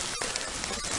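Heavy rain pouring steadily in a forest, a dense, continuous hiss of drops striking leaves and ground, loud and close throughout with no voices.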